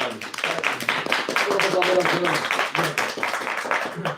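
An audience claps for a singer at a live performance, a steady close patter of many hands that runs for several seconds, with voices talking over it.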